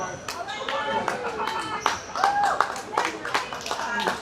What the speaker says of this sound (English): Nice little cheer there for the Rebs by the parents just in front of me.